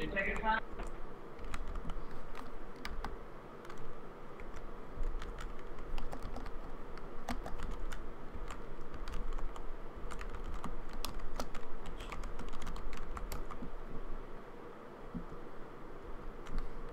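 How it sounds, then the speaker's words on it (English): Steady typing on a computer keyboard, a continuous run of quick clicks and clacks throughout, with a voice briefly heard near the start. "You can use your keyboard."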